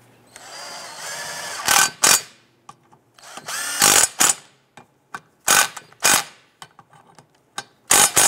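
Bursts from a power tool tightening the transmission mount bolts on a 2005-2010 Chrysler 300: several loud, close whirring runs of a few seconds each, with short quiet pauses and light clicks between them.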